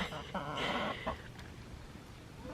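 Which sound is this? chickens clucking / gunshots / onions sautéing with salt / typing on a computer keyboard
chickens clucking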